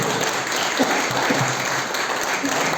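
An audience applauds continuously, a dense wash of many hands clapping at steady volume with a few faint voices mixed in.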